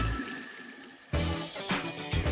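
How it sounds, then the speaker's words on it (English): Lukewarm tap water runs from an opened faucet into a sink after a brief quiet start, a close, steady rushing splash that continues to the end. "open the taps and let some lukewarm water run for a minute or so"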